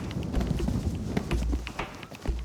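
A horse's hooves thud on the ground while show jumping an obstacle, quick irregular footfalls with a few louder low impacts, close and faint, with no talking.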